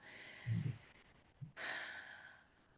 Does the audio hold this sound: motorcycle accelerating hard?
no